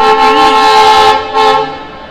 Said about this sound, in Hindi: यहाँ का रेलवे स्टेशन जो कि है नई दिल्ली रेलवे स्टेशन